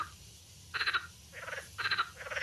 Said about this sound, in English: I'm not sure if you'll be able to hear this frog call in the background